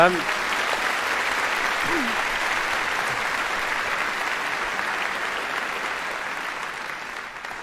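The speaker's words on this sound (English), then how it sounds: "A big round of applause for Leslie." Audience applause at a live interview event, a dense steady wash of clapping from a crowd lasting the whole stretch, with a brief voice at the start.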